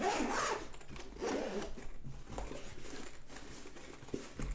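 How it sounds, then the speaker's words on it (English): A zipper is drawn closed around a Surge DLX carrying case for the Nintendo Switch 2, giving a couple of close, scratchy rasping pulls followed by softer rubbing and handling noise. "Zip that up."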